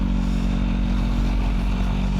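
A QJ Motor SRK 921 motorcycle idles and revs up close in a steady, loud, low engine drone with a slight clatter and no talking.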